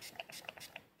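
A spray bottle of rubbing alcohol gives several short, close, faint hissing spritzes, each with a light trigger click, spaced unevenly over about a second.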